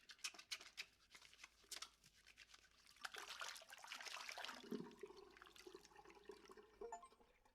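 Running shower water in the game Falling in Porcupine, a soft spattering and trickling stream with uneven bursts and a swell in the middle, fairly quiet and with no talking.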